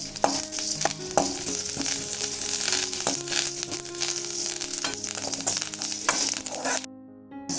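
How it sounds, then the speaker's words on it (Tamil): Spices for village-style rasam dry roasting in a pan over a low flame, a steady soft crackle with repeated stirring scrapes throughout, fairly close, ending in a brief quieter moment. "கொஞ்சம் சிம்மிலேயே வச்சு வறுத்துக்கணும்."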